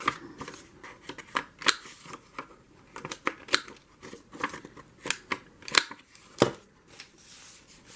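Scissors snipping paper to cut and round off its corners, a run of close, crisp cuts in an uneven rhythm with no talk.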